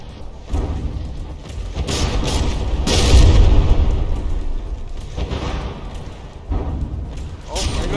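An APS gun in the video game From the Depths fires shells at a battleship turret: heavy booms and impact bursts, the loudest near the middle, over continuous mechanical battle noise with a voice talking throughout.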